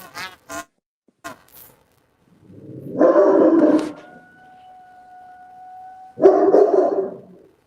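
A German Shepherd giving a few short barks near the start, then two longer loud, howl-like bursts separated by a steady tonal hum, all heard close with no talking.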